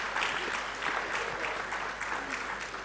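Audience applause from women attending an Indian Coast Guard commissioning ceremony for a pollution control vessel, steady dense clapping sustained for the whole stretch at moderate volume.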